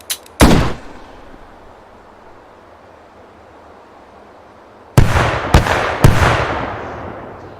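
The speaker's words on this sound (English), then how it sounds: "It's a firework shot, or a firework shell" Firework shells launched and bursting in the VR shooter game H3VR: one sharp bang early, a quiet gap, then three loud cracking blasts in quick succession, each with a short fading tail.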